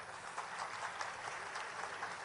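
Crowd applause welcoming the chief minister at the inauguration of a new water park in Dhanpuri, Shahdol district. The clapping is steady and dense, a broad hiss of many hands with no voices over it.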